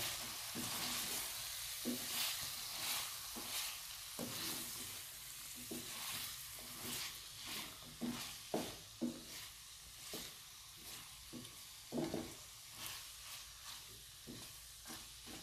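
Chicken pieces with carrots and capsicum are stirred and tossed in a pan for macaroni, with rhythmic scraping and knocking strokes over a quiet, continuous sizzle and no talking.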